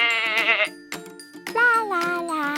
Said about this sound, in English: It's a white sheep.